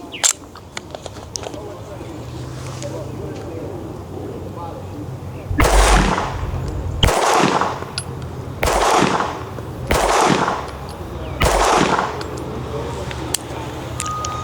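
Fusion Firearms XP-Pro pistol fired at a target 15 yards away, five loud sharp shots spaced about a second or more apart, ringing over a quiet outdoor background.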